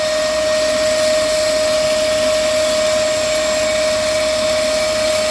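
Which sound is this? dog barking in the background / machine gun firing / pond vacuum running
pond vacuum running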